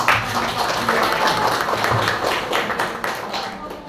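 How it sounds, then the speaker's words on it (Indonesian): A classroom of students breaks into applause, a dense patter of clapping lasting a few seconds, fairly loud and close. "kita kasih tepuk tangan yang meriah"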